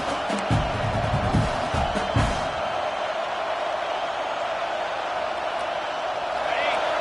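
Steady roar of a football stadium crowd cheering on the defense during a red-zone stand in Utah at Michigan, a broad continuous wall of noise with a few sharp thumps early on and commentary talk over it.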